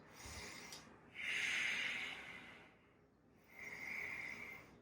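Slow, deep breaths during a yoga flow: an airy exhale, a long hissing breath, a pause, then another softer rushing breath, close and quiet.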